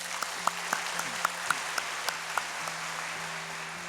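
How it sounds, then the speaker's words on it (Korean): Applause from a church congregation at a Sunday service, a soft, fairly faint patter of clapping with a few sharper claps standing out at a loose, uneven rhythm. "큰 박수를 한번 부탁드리겠습니다"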